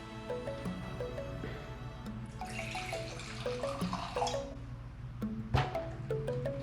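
Avuá cachaça is poured into a glass, a close liquid trickle and splash rising briefly over soft background music, with no voices.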